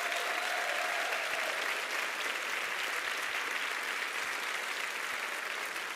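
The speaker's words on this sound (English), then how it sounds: "I want a huge round of applause for all of these people" An audience at a teacher leader celebration applauds in a steady, even wash of clapping that holds for several seconds, heard from some distance and fairly quiet, with no one speaking over it.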